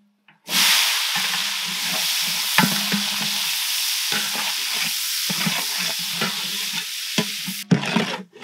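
Chopped onions and green chilies frying in hot groundnut oil for a village-style chicken biryani, a loud steady sizzle running throughout with repeated scraping stirs of a ladle in the pot, ending abruptly near the close.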